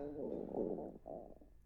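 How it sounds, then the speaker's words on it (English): A low, gurgling stomach rumble, close and fairly soft, in two drawn-out swells lasting under two seconds. "Was that your stomach?"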